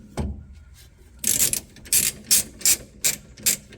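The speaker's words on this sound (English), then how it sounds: "I like this ratchet with the straight through sockets on it." A ratchet fitted with straight-through sockets tightens U-bolts on a 2000 Toyota Tundra, giving a close dry click followed by several short, evenly spaced bursts of ratcheting.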